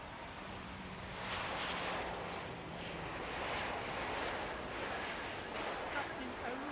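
An airliner landing at Funchal airport, a broad steady roar of jet engines and rushing air that swells slightly and holds without a break, with no speech.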